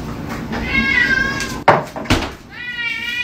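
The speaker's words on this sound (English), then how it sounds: "Cats always act like you haven't fed them in days." A cat meows twice, loud and close, with a drawn-out plaintive cry, then two sharp knocks or cupboard thumps, then a second rising meow.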